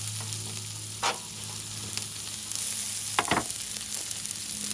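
Vegetables sizzle in butter on a tray over a Gas One GS-2000 camp stove, a steady soft hiss with a few sharper crackles and scrapes, no talking.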